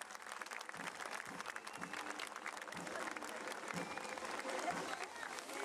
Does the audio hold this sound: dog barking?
no